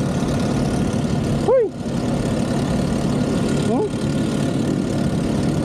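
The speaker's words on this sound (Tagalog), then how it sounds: "Akala ko naman yung isang motor ang maingay kanina. Itong motor ko pala." A motorcycle engine runs steadily and roughly close by, a noisy continuous drone that carries on under a brief exclamation and a short whistle-like squeal.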